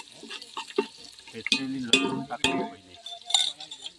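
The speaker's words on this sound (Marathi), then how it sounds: "फोडणी झाली तेला बरोबर ते डायरेक्ट काय टाकलं" Whole spices tempering in hot oil for a homemade mutton dish, giving a close crackling sizzle with stirring clinks and scrapes, plus brief voices in the background.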